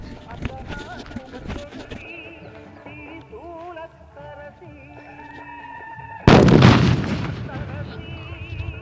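A sudden, very loud burst erupts partway through, a booming blast of large village firecrackers with a long crackling tail, following a stretch of quieter talking and clatter.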